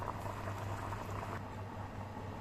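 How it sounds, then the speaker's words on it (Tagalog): Tinola fish soup with rice boils in a pot, a steady bubbling simmer that runs on evenly and fairly quietly, with no talk. "haluin nyo lang siya ng pakuluin talaga"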